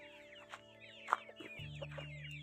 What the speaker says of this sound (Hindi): तो उधर मुर्गे आपस में जो छोटे हैं ना, अभी ये छोटे हैं, इनकी यहाँ पर लड़ाइयाँ हो रही है।